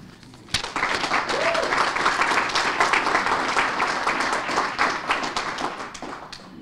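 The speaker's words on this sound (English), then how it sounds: "I think that we all should provide these Scalerator companies a great round of applause right now." An audience at a startup accelerator graduation bursts into applause, a dense, steady round of clapping from many hands that starts abruptly and tapers slightly toward the end.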